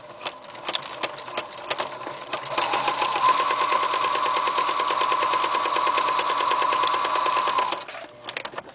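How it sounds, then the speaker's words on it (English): A sewing machine stitches a fleece shoulder seam for pajamas, a few slow stitches first, then a fast steady mechanical chatter for about five seconds before slowing to stray stitches. "we're going to sew it approximately the width of our foot on the sewing machine"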